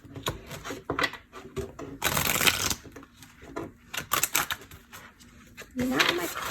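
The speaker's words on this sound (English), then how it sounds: "Now my cards don't want to shuffle." Rapid riffling bursts of tarot cards being shuffled, close by, coming in several short flurries with a longer burst in the middle and pauses between.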